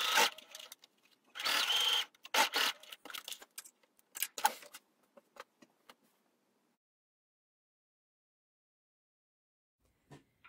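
Close, loud bursts from a sewing machine topstitching the underarm curve of a dress bodice, a long run followed by shorter stop-start stitching that tapers into silence.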